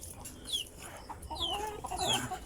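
Free-range chickens cluck nearby in short bursts, a few bright rising squawks over a soft outdoor background, with several birds calling within a couple of seconds.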